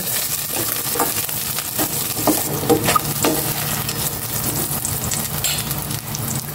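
Garlic, onion and chili sautéing for a Filipino coconut-milk vegetable dish (ginataang gulay), a constant loud sizzle broken by scraping stirring strokes, no talk.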